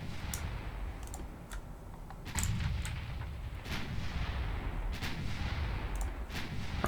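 Warship guns firing in the naval game Ultimate Admiral Dreadnoughts, a string of sharp repeated booms and cracks over a steady rumbling wash of sea and engine noise, fairly loud and irregularly spaced.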